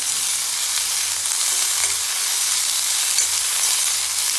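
Steady, loud sizzle of cauliflower sauteing in a hot pan, with occasional soft scrapes of stirring blended into the even frying hiss.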